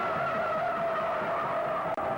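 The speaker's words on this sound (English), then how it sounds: "firing this car through a corner in a four-wheel drift with power on" A Kyosho 1970 Dodge Charger RC car drifts on all four wheels under power, giving a steady, close, high-pitched whine and tire squeal throughout with no voices.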